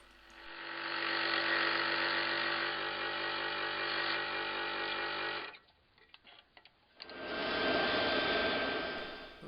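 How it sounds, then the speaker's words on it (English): A bandsaw trims surplus wood from the profile of a Citroen 2CV wooden model, a loud steady whining hum that dips to near quiet with faint handling clicks midway, then returns at full strength. "Back on the bandsaw and just removing the rest of the surplus from the profile."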